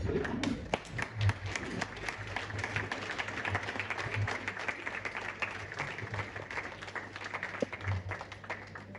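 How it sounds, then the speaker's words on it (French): Applause rises from the many guests at a 50th birthday celebration, a steady, dense clatter of clapping that runs on without a break, with faint voices mixed underneath. "comme ça on va aussi les applaudir."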